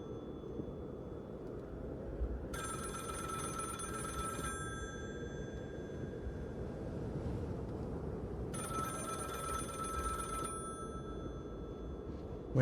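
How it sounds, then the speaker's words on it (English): Telephone ringing in the horror video game The Cabin Factory: two bright, trilling rings, each lasting about two seconds and separated by a long pause, over a low ambient hum. "Phone ringing."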